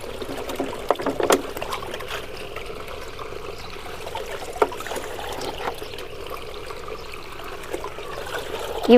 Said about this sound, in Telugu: ఈ మూడు కలిపిన నీళ్ళు మొక్కలకి ఇచ్చేద్దాం